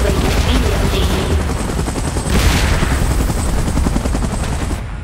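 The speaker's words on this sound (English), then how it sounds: "Chopper in position." A helicopter in the video game PUBG Mobile, its loud continuous rotor whir and thrum running throughout, mixed with bursts of gunfire and battle noise.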